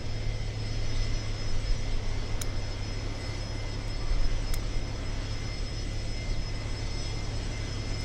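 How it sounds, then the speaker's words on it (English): A NetJets business jet flying past on its way to Kona, a steady broad roar that swells slightly midway and again near the end, with no talk. "We have an exec jet."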